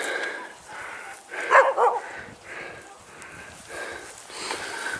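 Dogs give a few moderate barks and yips amid softer whimpers and sniffing in Cripple Creek, Colorado, the loudest outburst in the middle of the stretch.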